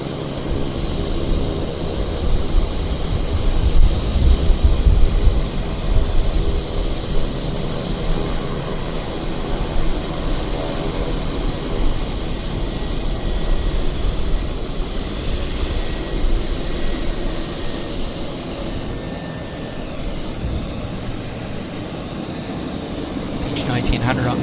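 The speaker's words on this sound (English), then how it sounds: "I'll just wait for this Beech 1900 to stop running its engines" A Beech 1900 turboprop runs its engines at Vancouver Airport, giving a loud, steady, broadband roar with a high whine that holds for the whole stretch and eases slightly near the end.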